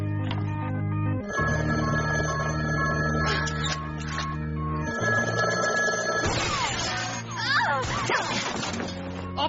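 Telephone ringing in a movie scene, a repeated electronic ring pattern under dialogue and dramatic music, with crashing sound effects near the end.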